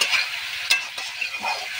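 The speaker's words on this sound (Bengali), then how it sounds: "এখন এর মধ্যে দিয়ে দিচ্ছি সয়াবিন।" Soybean chunks are stirred and fried in spiced masala in a pan for egg-soybean curry, a steady close sizzle with a few scraping strokes of a spatula and no talking.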